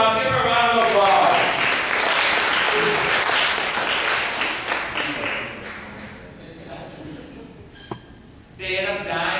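A school audience at a youth assembly breaks into applause, a dense wash of many hands that gradually thins and fades, with voices talking over and after it.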